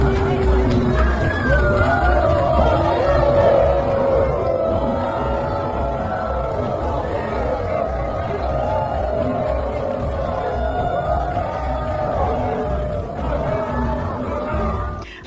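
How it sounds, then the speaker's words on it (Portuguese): A large crowd booing Lula at an outdoor public gathering: a dense, continuous wash of shouting and voices that holds steady at a fairly loud level from start to finish. "não faltaram vaias para o Lula"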